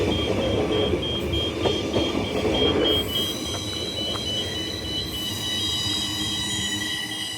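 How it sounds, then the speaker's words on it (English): A Transperth train from Ellenbrook pulls into McIver station, a steady loud rumble of wheels and carriages with high squealing tones from the rails, continuous and close throughout. "now we got the NIS train from Ellenbrook coming in"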